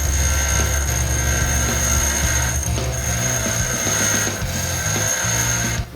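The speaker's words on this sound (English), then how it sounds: "bench grinder, and I'm gonna just round that square edge off each one of those corners a little bit." Bench grinder rounding off the square corners of a piece of stock, a loud continuous grinding hum with rasping contact noise that holds steady throughout.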